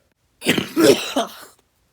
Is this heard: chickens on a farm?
no